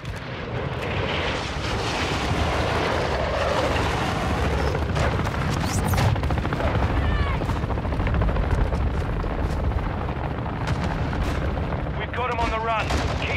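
Battlefield gunfire in the video game Call of Duty: Modern Warfare II, dense continuous rumble of shots and explosions with a helicopter-like drone, voices talking over the din.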